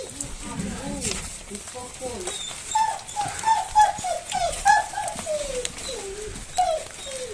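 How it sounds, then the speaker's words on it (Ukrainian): A dog whimpers and yelps in a series of rising and falling whines, with a few sharper barks, close by during BMW rear strut tower repair work in a garage, while people talk. "собака задолбал"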